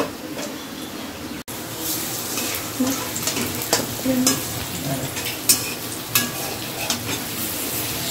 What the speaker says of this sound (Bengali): সব করে নিয়ে আমি দেখতে পাচ্ছেন এটা ডিপ ফ্রাই করছি